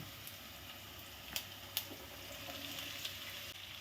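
Chopped shallots and sliced onions fry in hot oil with a continuous, even hiss, broken by a couple of sharp clicks from stirring. No one talks.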